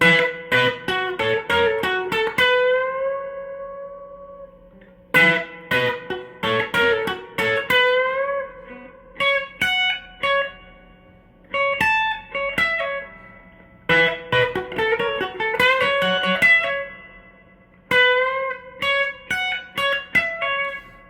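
An electric guitar plays a lick with a full string bend, repeated several times as quick picked note runs that end in a sustained bent note, alone with no talk.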